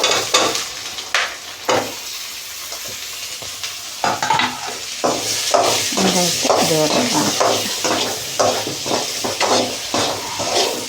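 Chopped onions sizzle loudly in a hot pan, with a steady frying hiss and a quick run of scraping, clattering stirs that grows busier toward the end.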